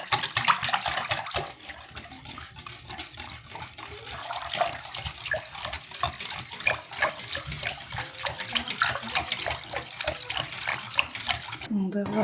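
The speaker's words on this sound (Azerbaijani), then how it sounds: "Qəşəng tam açılana qədər çırpırıq." Village eggs being whisked briskly in a bowl for dovğa, a fast continuous clatter of whisk strokes against the bowl, close and steady throughout with no speech.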